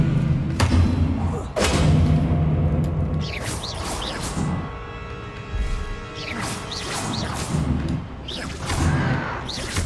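The Expelliarmus disarming spell is cast in Hogwarts Legacy combat: heavy thuds, crashing impacts and swishing whooshes burst in quick succession, loud and close, with a brief voice among the effects.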